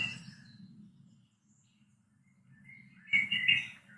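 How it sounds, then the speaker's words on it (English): Birds chirp near a room, giving a few bright tweets at the start and a louder burst of calls near the end, with a quiet gap between them. "Oh, now the birds are really coming in."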